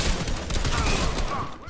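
A minigun fires in a shooter video game, a dense rapid-fire roar of gunshots that fills the whole short stretch at steady loudness.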